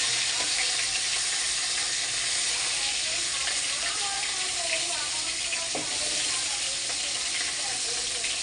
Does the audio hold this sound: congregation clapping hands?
no